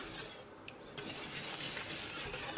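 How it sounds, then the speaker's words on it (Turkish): A whisk stirs soup with flour in a pot, steady swishing and scraping over a constant hissing background, with a couple of faint metallic taps. "Çorbayı çırpıcıyla karıştırın ki topak topak olmasın un içinde."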